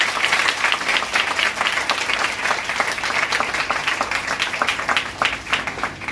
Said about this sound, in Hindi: वापस से ताली बजाइए